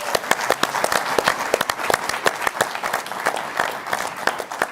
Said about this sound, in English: It's Terry McFlynn. Round of applause.